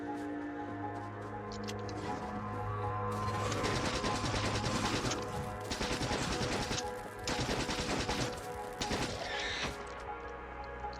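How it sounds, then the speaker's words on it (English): Shotgun fire in the game Factorio, a dense sustained burst of rapid crackling shots in several bursts over a steady game background, loud and continuous with brief gaps. "See, miss with a shotgun."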